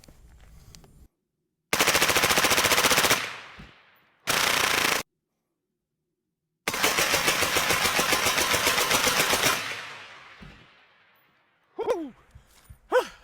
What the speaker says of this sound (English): let's go ahead and see how it ejects on full auto